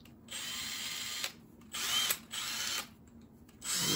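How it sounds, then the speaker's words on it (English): A Makita 18V cordless drill whirs in several short bursts, its high motor whine starting and stopping repeatedly with brief silent gaps, close and loud. "let's try it on the drill"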